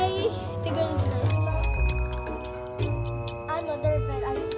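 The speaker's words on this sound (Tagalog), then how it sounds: "Ay, doorbell ba?" A bright chiming bell rings several times in quick succession, like a doorbell, over background voices and household noise.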